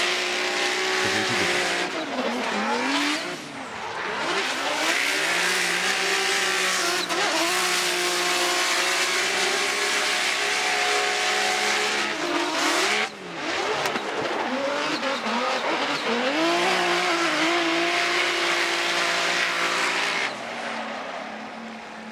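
An ISR Performance 86 drift car at a Formula Drift pro competition in St. Louis screams through continuous engine revving and sustained tire squeal, loud and close, with brief dips as the throttle lifts and shifts before the car roars on.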